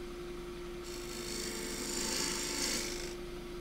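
Gouge cutting wood on a lathe while turning a thin pot, a faint steady scraping rasp over the lathe's hum that swells in the middle and eases off.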